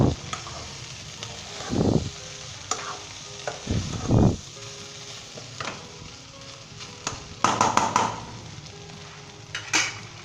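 Aloo keema, a Lahori-style potato and beef mince, being stirred and fried in a pan, with bursts of scraping and clanking spatula strokes over a constant close sizzle.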